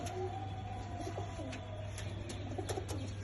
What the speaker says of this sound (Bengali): খুবই ভালো এবং ইম্পোর্টেড ব্র্যান্ডের দুইটা কবুতর